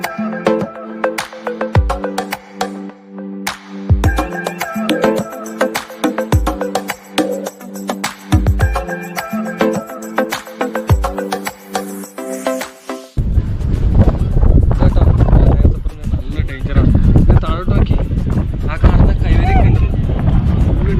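Strong wind on the hilltop trek up Madhugiri Fort roars and buffets the microphone in a loud, continuous rush after a stretch of music at the start.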